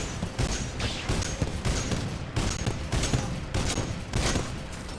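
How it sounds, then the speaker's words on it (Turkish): In Titanfall 2, a weapon firing exploding rounds lets off rapid repeated bursts of gunfire with punchy, close impacts in a regular rhythm, and there is no talk. "Bunun mermileri patlıyor bir de."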